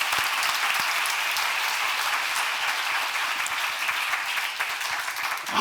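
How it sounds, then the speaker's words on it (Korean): A church congregation gives steady, vigorous applause during a sermon lecture, a close and even patter of many hands clapping without pause. "박수 치려면 세게 쳐봐"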